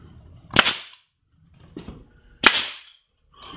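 A nail gun firing 1.5-inch nails into the inside of a Windsor casing picture frame miter corner: two sharp, loud pneumatic bangs about two seconds apart, each with a short rattling tail, plus softer handling knocks between.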